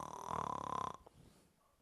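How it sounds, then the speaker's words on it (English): One short, droning snore rumbles for under a second and then cuts off into near silence, fairly quiet and alone. "He even gives a little snore."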